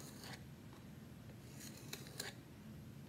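Scissors snip stripes from paper for a paper puzzle bowl craft, a few short, crisp cuts spaced apart, close and quiet, with no talking.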